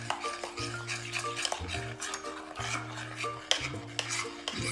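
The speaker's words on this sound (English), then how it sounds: "let's get the cacao powder in there. Got a good stir." A spoon stirs cacao powder into a thick chocolate peanut butter mixture with peanuts in a bowl, giving repeated close scraping and clinking strokes in an uneven rhythm, with no talking.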